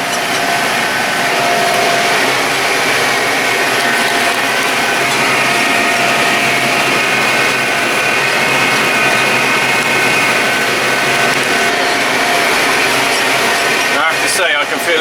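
Tractor mowing hay in a field, a steady loud engine drone with mechanical whine running throughout, heavy broadband noise with no breaks and a brief clatter near the end.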